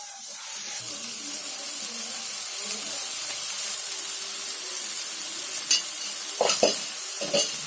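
Onions and tomatoes sizzle steadily in a pan while being cooked down for goat head pepper sukka, a continuous frying hiss with a few louder scrapes and stirring knocks near the end.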